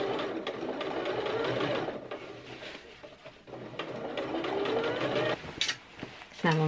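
A sewing machine stitches a zip into a Zinnia skirt with a continuous, close mechanical whir that carries on almost without pause, while someone talks over it.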